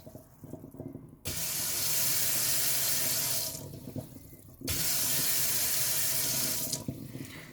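Water rushes from a Xiaomi ZAJIA infrared sensor faucet attachment into a sink, a loud steady hiss that starts abruptly, cuts off, then runs again for a second long stretch.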